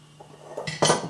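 A metal cooking pot for collard greens is handled, giving a few light clanks and a louder metallic clatter near the end, close and brief with no talk.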